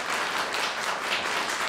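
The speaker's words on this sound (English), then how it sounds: "Let's have a round of applause for Ethan." An audience applauds steadily at a school district spelling bee final, with dense, even clapping that fills the room for a couple of seconds.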